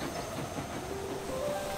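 Cartoon circus train rolling past with a steady rumbling rail clatter, a light hiss and faint tonal squeals, moderately quiet and continuous with no voices.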